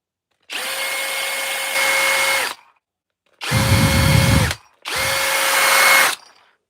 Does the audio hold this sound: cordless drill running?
yes